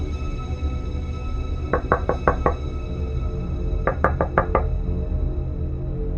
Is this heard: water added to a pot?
no